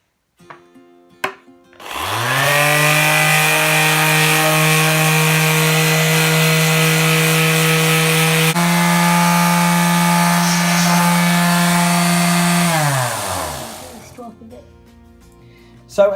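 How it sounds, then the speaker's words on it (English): A power sander stripping the finish off the back of a guitar body with 40 grit sandpaper, a loud, steady droning hum that starts up, runs for about twelve seconds and then winds down. "We're using a 40 grade sandpaper just at the minute to lift a lot off."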